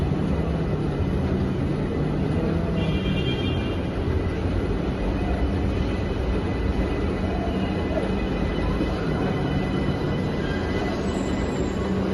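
An old Kolkata Metro train rumbles steadily through an underground station as it arrives, a loud continuous roar of wheels and motors with faint high squeals.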